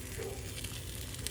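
Spinach, tomato and feta paninis frying in melted butter in a pan give off a steady, close sizzle with crackling that stays even throughout, with no voices over it.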